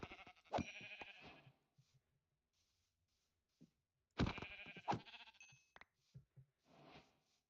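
Sheep bleating in a Minecraft-style video game, two loud, close bleats a few seconds apart, with faint clicks and quiet gaps in between.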